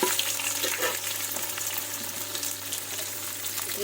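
Bitter gourd pieces fry in hot oil, giving a continuous close sizzle and crackle with a low steady hum beneath.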